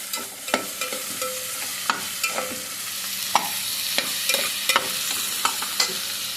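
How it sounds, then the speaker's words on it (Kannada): Capsicum, onion and tomato fry in a pan with a steady sizzle, while a utensil stirs and scrapes in sharp, irregular clicks throughout. No one speaks. "ಒಂದು ಕ್ಯಾಪ್ಸಿಕಮ್ಮು ಒಂದು ನೀರುಳ್ಳಿ ಒಂದೆರಡು ಟೊಮೆಟೊ ಫ್ರೈ ಮಾಡಿ ಚೆನ್ನಾಗಿ ಫ್ರೈ ಮಾಡಿ"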